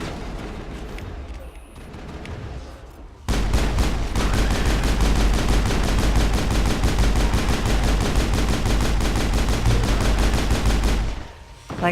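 Continuous rapid weapon fire from Mass Effect 1 as husks are shot in a hallway, a long loud burst of evenly spaced shots following a quieter stretch.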